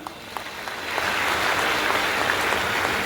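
An audience at a scholarship announcement event for female students claps, a few scattered claps quickly building into steady, moderately loud applause.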